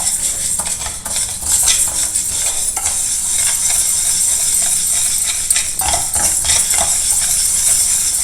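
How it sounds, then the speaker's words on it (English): Dry roasting ingredients in a pan over a low to medium flame for a Janmashtami recipe, with a steady soft sizzle and repeated scraping strokes of a spoon stirring continuously, close and alone without talk. "Dry roast it over a low to medium flame."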